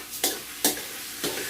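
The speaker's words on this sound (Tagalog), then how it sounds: "Igigisa ko lang po yan." Ingredients sautéing in a pan for a budget arroz caldo with chicken, a soft steady sizzle broken by three sharp stirring scrapes, close and without talk.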